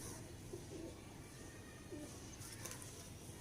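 A Teddy pigeon coos softly a couple of times over a steady hiss of background noise, with faint chirps from other birds nearby.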